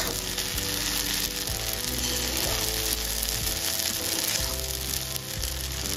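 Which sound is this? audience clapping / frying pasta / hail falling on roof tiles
frying pasta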